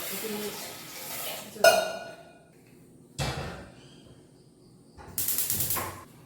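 Dishes and vessels being handled and wiped in a Kerala home kitchen: three distinct clattering clinks of metal and glassware, spaced a second or two apart, with quieter rustling and faint voices in between.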